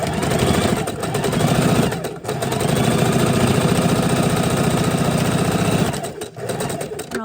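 A sewing machine runs steadily, stitching a quilt block seam, its rapid mechanical hum nearly continuous for about six seconds with brief pauses near the start and end.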